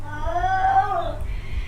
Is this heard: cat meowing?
yes